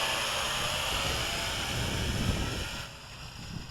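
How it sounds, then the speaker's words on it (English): Gusty wind buffets a JJRC H16 Tarantula X6 drone in flight, a steady broadband rushing roar with a faint low rumble that eases slightly near the end. "Wind is a little bit gusty today, so it's blowing in from the left to the right."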